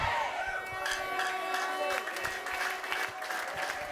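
A church congregation claps together in sustained applause, a dense crackle of many hands filling the room, with a few voices calling out over it.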